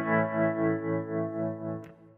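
Sustained guitar chords ring out drenched in Valhalla VintageVerb reverb, with a slow, wavering swell in the tone and a long tail, fading near the end with a brief bright click.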